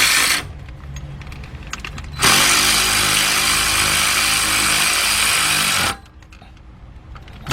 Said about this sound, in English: get you one of these cordless ratchets, man. That makes the job so much easier.